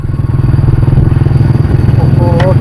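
A motorbike rides along a road, its engine running steadily and close throughout with a continuous low rumble, and a brief higher tone near the end.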